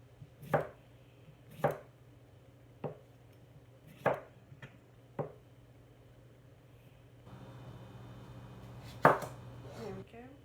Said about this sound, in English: I'm just going to slice it into some fairly thick slices